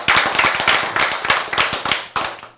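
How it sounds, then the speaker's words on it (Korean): A church congregation claps during a sermon, sharp and close, in quick bursts of separate hand strikes that fade between surges and end with a final flurry. "박수!"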